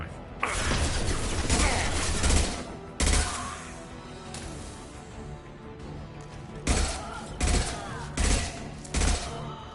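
Rifle gunfire in the video game Mass Effect 2, loud bursts of rapid shots in two clusters, an opening volley followed by a quieter gap, then several sharp separate shots close together.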